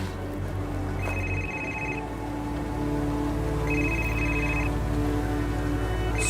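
Telephone ringing at night indoors, two separate bursts of a repeated electronic trill over a steady low background hum, moderately loud and with no talking.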